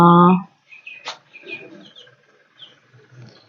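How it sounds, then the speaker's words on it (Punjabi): Several sparrows chirp and tweet in short scattered bursts at a moderate distance, after a brief loud tone at the start. "ਵੇਖੋ ਚਿੜੀਆਂ"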